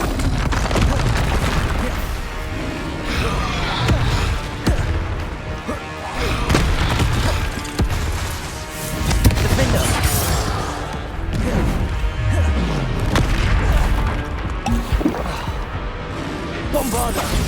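Bombarda and Confringo spell blasts from Hogwarts Legacy, a dense run of loud crashing booms and smashing impacts that keep coming with no letup, mixed with game music and effects.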